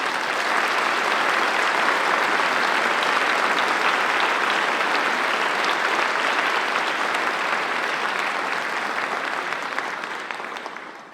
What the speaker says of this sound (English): Could you please give a round of applause to the students and the teachers?